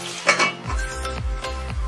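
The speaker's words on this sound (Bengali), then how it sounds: "পটলটা হাই ফ্লেমে 1 মিনিট নাড়াচাড়া করেছি, এবার এটা ঢাকা চাপা দিয়ে দিচ্ছি।" Metal lid clanks and clinks onto a pan of pointed gourd on the stove, a few quick close knocks with low scraping in between, no talking.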